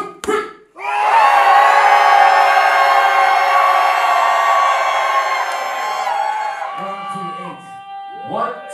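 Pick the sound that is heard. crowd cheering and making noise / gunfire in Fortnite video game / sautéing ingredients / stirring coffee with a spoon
crowd cheering and making noise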